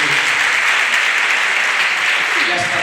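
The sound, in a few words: audience applause in an auditorium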